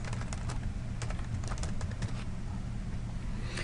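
Quiet, rapid keystrokes on a computer keyboard, a brisk run of clicks in the first couple of seconds trailing into faint background hiss.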